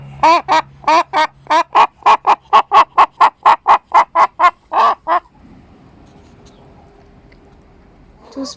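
Bielefelder and Malines Tête de Dindon chickens in a henhouse let out a rapid run of about fifteen loud, evenly spaced clucking calls, close by, followed by a few seconds of quiet ambient noise.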